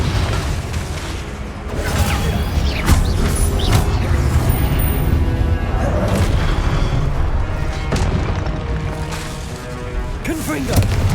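Confringo fire explosion spell cast over and over in Hogwarts Legacy, a dense run of loud booming blasts and crackling bursts filling the whole stretch amid busy game action.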